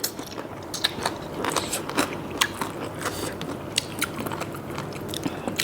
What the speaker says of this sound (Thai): กรอบกรอบพี่น้องค่ะกรุบกรุบกระดูกอ่อน